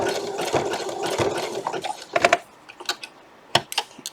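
A vintage sewing machine stitches in quick rattling bursts, busy at first and then breaking into short separate clicks and taps close by in a quiet room.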